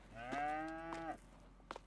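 Cows in the farming video game Farming Simulator 22 give two drawn-out moos in quick succession, clear and moderately close, followed by a short faint click, with no speech.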